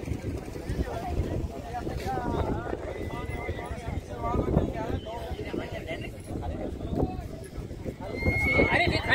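A Panchkalyan mare neighs repeatedly amid hoof clip-clops and wind at an outdoor horse gathering in Kutch, with someone talking over the whinnies throughout.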